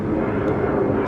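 An airplane passes overhead along a flight path near a residential driveway, a steady broad roaring drone, moderately loud and continuous across the short moment.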